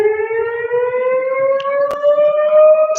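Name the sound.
civil defense sirens going off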